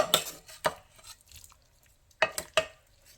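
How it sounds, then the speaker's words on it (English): Ground beef with onions and jalapeno pepper is tipped into a pot, with a few sharp clinks of a utensil against metal and a soft, brief rustle between them, quiet and nearby. "I'm going to add that ground beef with the onions and the jalapeno pepper."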